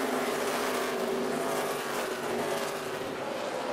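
NASCAR Sprint Cup stock cars roar around Richmond International Raceway in 2011, a loud, sustained engine drone with a steady pitch as the field motors past, no talking.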